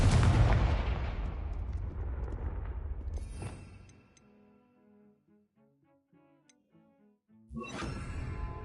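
A Confringo fire spell blasts in a wizarding video game, a loud booming explosion that rolls and fades over several seconds, followed by a quiet stretch with faint musical tones before another loud burst near the end.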